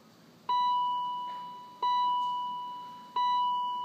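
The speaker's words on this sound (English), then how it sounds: "As you heard that thing start beeping." The instrument cluster of a BMW E39 5 Series 528i beeps three times at even intervals while resetting, each tone a loud, sustained electronic chime that fades slowly before the next one.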